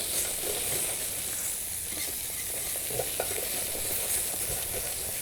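Rabbit pieces and langoustines sear in oil in a paella pan, a continuous close sizzle and crackle with occasional stirring scrapes throughout.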